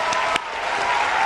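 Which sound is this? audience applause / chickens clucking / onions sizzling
audience applause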